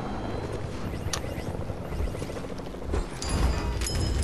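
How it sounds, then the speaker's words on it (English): A helicopter flying into a base in the video game Bed Wars, a steady loud rotor drone and thrum with scattered crashing and mechanical clatter, rising slightly toward the end. "kids running a chopper into our bases."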